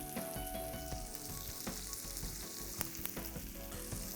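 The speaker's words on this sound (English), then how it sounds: "Curry leaves, and then add blanched broccoli." Broccoli and curry leaves sizzle and crackle in hot oil in a pan, a steady bright hiss broken by sharp pops and occasional stirring scrapes, close and fairly quiet with no talking.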